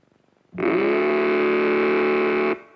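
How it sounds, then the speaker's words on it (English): A Mattel Baroom toy hot rod engine fitted to a child's tricycle gives a loud, steady, buzzing roar with a rising onset, held for about two seconds and then cut off, heard alone. "you can make it roar with Mattel's terrific new Baroom hot rudder engine."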